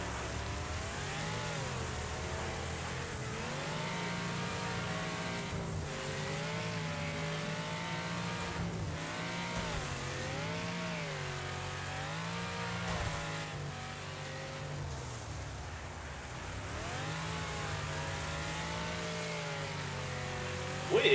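Race cars in a PlayStation 5 racing video game drone and rev continuously, the engine pitch rising and falling through gear changes over about twenty seconds, with a faint squeal near the end and no talk.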